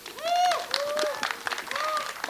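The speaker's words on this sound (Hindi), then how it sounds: "इनके लिए बहुत सारी ताली होनी चाहिए।" An audience applauds at the Jatt And Juliet 3 trailer launch event, a scattered burst of clapping heard beneath a host speaking over it.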